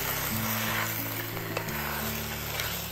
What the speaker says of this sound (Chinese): 把切好的鸡肉倒入砂锅翻炒均匀。